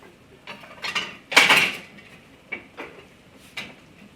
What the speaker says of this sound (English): Get out my cutting board. Get a really sharp knife.